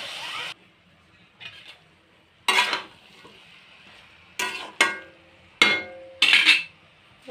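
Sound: stirring cabbage curry with spices in a pan

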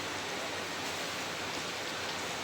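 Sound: rain falling

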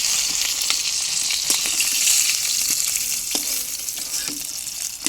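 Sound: rohu fish frying in oil

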